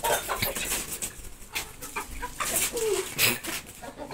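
Roosters and hens at a poultry show in Islamabad, clucking in short scattered calls amid a busy, noisy background of people and movement, moderately close.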